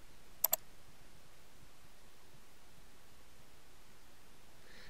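A mouse clicking Install for a WordPress theme, two quick sharp clicks close together near the start, then only faint steady room hiss.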